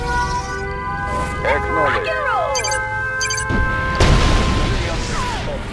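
A nuclear missile detonates in the video game Red Alert 2: Yuri's Revenge, with one sudden loud, broad blast and rumble near the end, following a stretch of sweeping, tonal in-game effects.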